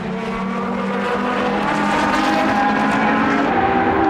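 An Audi prototype race car slips past at the 2008 Monza 1000km, a loud high-revving engine whine with sweeping harmonic tones that swell and shift as it goes by.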